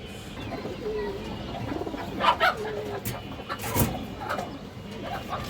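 Female pigeons kept for sale coo softly in a loft in a few low rounded calls, with one louder burst midway, and no talking over them.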